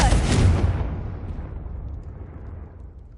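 A Confringo blasting spell explodes in a Harry Potter video game: a loud, deep boom that hits at once and then rumbles away into a long, fading low roar, with no talking.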